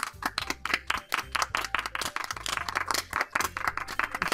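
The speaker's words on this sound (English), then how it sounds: "I'm the first to start applauding." Brisk hand clapping from a small group, rapid and uneven, with a steady rhythmic beat running underneath throughout.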